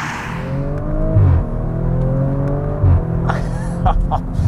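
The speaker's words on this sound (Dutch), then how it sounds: "Want er rijdt een RS4R heel hard." Audi RS4-R ABT estate car with four-wheel drive driven hard through bends, its engine note rising and falling in steady sweeps as it pulls through gears, loud and close throughout with a brief crackle near the end.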